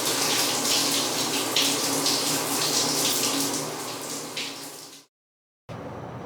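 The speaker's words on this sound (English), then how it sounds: "I'm about to test out that shower right now." Hotel bathroom shower running, a steady loud hiss of spraying water that holds for about five seconds, cuts off abruptly into silence, then resumes.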